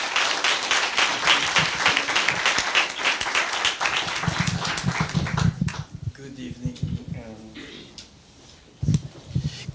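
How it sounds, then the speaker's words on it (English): An evening talk audience gives a big round of applause for two speakers, a full, crackling burst of clapping that holds for about five seconds and then cuts out, leaving quiet room noise and a few scattered sounds. "So a big round of applause for the two speakers."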